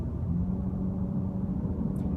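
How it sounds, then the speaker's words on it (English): The gasoline engine of a 2015 Honda Accord Hybrid accelerating into traffic gives a steady, smooth rumble heard from inside the car, low and continuous without much change in pitch. "You can see there's that gasoline motor."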